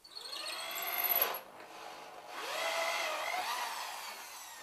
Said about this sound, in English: Mark out the entry point in the ceiling and drill the hole.